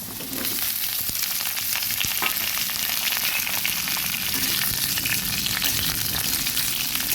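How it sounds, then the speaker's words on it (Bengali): Cut ridge gourd and kakrol pieces sizzle steadily in a hot pan for a red spinach charchari, a dense continuous frying hiss that stays even and close throughout. "এবার এখানে কেটে রাখা ঝিঙে আর কাঁকড়ন আমি সুন্দর করে আগে ধুয়ে তারপর কেটে নিয়েছি এরকম লম্বা লম্বা পিস করে এখন দিয়ে দেবো"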